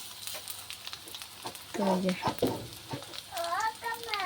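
Cabbage fritters (pakora) frying in a pan in a home kitchen, a steady soft sizzle running under nearby speech.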